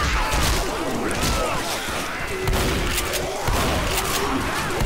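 Mounted turret machine gun firing steadily in the Left 4 Dead zombie game, dense continuous bursts of shots amid crashes and chaotic game noise, loud and sustained throughout.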